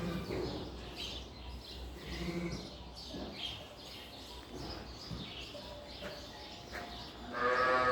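Suffolk (German blackhead) sheep on a farm bleat faintly now and then over a steady outdoor background, with small birds chirping, and a louder bleat near the end.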